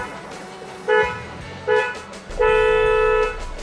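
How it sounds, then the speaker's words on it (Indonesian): Three honks from an aftermarket horn on a Toyota Innova Zenix, two short blasts then a longer held one, loud and close with a full, rounded tone. "klakson atau project itu dia memberikan suara lebih bulat"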